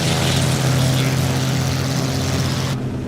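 A V8 engine on the iniBuilds Bf 108 Taifun in Microsoft Flight Simulator drones steadily during a climb. The tone is loud and rich and stays close and even until the upper hiss suddenly drops away near the end.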